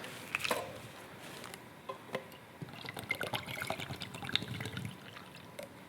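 Epoxy coating liquid poured from a ring-pull can into a measuring container, a faint, close trickle and patter that builds in the second half amid small clinks and handling noises, with no speech.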